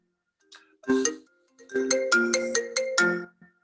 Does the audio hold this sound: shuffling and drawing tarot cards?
no